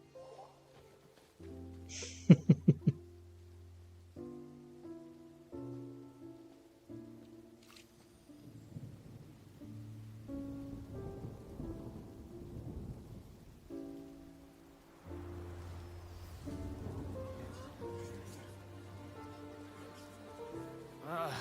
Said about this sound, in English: It's raining! Oh no, Paimon forgot to bring an umbrella! Come on, let's hurry before it rains harder!